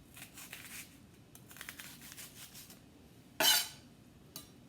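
A knife cuts through an onion on a cutting board: soft scraping cuts, then one sharp, crisp slice and a final light tap on the board, close and quiet with no voices.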